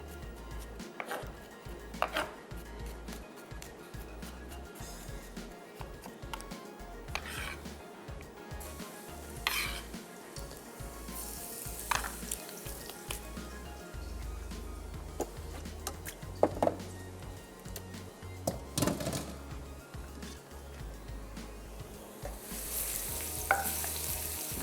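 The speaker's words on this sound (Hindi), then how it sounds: "गार्लिक को हल्का सौते करना है, कलर नहीं देना है।" Chopped garlic sautés lightly in a pan for a Mongolian chicken pasta, a steady soft sizzle with occasional stirring and utensil clinks against the pan, close and continuous with no talking.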